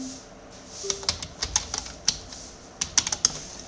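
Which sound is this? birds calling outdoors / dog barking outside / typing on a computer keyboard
typing on a computer keyboard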